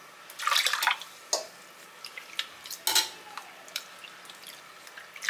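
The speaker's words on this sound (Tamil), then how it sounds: "இதை நம்ம தண்ணி ஊற்றி அலசிட்டு புளிஞ்சு போடுவோம்." Lace poha (flattened rice) is rinsed in water, giving close, sparse splashes and drips with short pauses between them.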